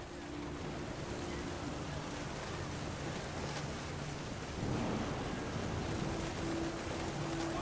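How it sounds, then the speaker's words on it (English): Thunder rumbling through a stormy scene in the video game What Remains of Edith Finch, a steady broad roar with rain-like wash throughout, swelling louder for the last few seconds. "The thunder sounded much too close and full of angry power."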